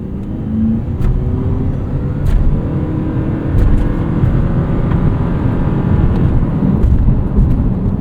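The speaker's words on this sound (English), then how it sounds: "let's do a quick 0 to 60 here. We're in sport mode." 2024 Toyota Prius Prime accelerating hard from 0 to 60 in sport mode, heard from inside the cabin as a loud, steady road and motor roar that builds gradually over several seconds.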